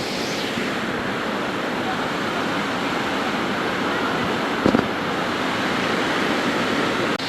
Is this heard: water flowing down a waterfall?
yes